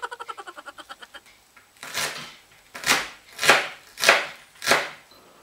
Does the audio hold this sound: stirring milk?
no